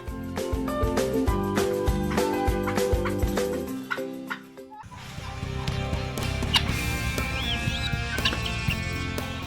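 Turkeys on a farm gobbling and clucking in repeated bursts, fairly close, alongside other fowl calls, with a brief pause midway before the calls resume.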